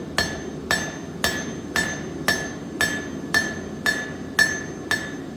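A hammer beats out a taper on a square S hook, nine even, ringing metallic blows at a steady rhythm, close and loud, with no talk.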